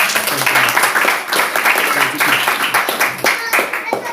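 A church congregation claps loudly and rhythmically, with bursts of hand claps and some voices mixed in throughout.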